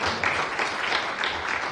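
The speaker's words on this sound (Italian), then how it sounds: "Grazie, l'applauso, grazie." Loud, dense applause from a gathered audience at an Italian regional government signing ceremony, continuous clapping from many hands over the whole moment, close and steady.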